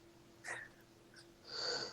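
A sneeze bursts out about halfway through, close and fairly loud, followed by a quieter breathy sound and then a longer hissing exhale at the end.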